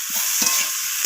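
Chopped eggplant sautéing with spices and other curry ingredients for a rohu fish curry, a close steady sizzle punctuated by a few sharp spatula scrapes and stirs.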